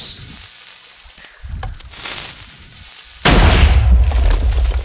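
Minecraft TNT cannon firing, a few scattered muffled pops and booms followed by a loud sustained blast of explosions that rumbles on to the end.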